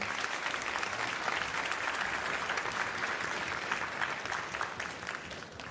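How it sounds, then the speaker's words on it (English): An audience at an all-district school orchestra concert in a high school applauds, a dense, even wash of clapping that carries steadily throughout. "so please give them a round of applause."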